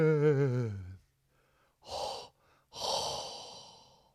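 A podcast host gives a few close breathy exhales and gasps into the mic, two short airy bursts after a brief hummed tone, with quiet gaps between.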